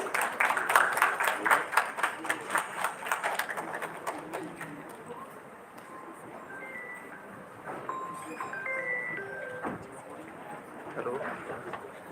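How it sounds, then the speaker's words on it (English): Applause at a dental conference breaks out as a brisk burst of clapping from a seated crowd, then fades into scattered claps and room noise. "A big round of applause, please."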